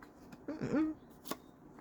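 A brief riffle of tarot cards being shuffled, soft and close, followed by a quick tap.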